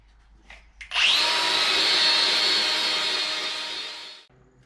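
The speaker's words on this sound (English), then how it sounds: "Clean up the top of the head just with this polishing pad." A grinder fitted with a soft polishing pad spins up and scrubs carbon off a 1965 Toyota F135 cylinder head, a loud, steady whining rush lasting about three seconds before winding down, heard alone and up close.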